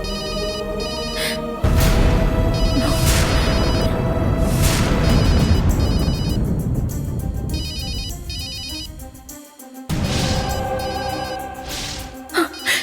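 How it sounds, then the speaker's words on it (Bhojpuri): A phone rings with a loud electronic ringtone that repeats steadily for several seconds, cuts out briefly near the end, then starts again, heard in a Bhojpuri TV serial scene. "भैरवी के ही फोन बा"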